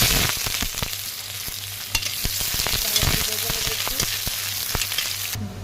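Whole cumin seeds, bay leaf and a little onion fry in hot oil, giving a steady close sizzle with scattered crackles and a few sharper pops throughout.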